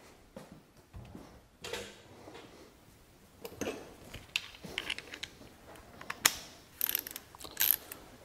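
A ratchet tightens bolts on the intake of a Ford Escape 3.0L, giving bursts of quick metallic clicking separated by short pauses, close and fairly quiet.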